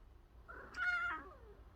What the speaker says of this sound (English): here's a video of my cat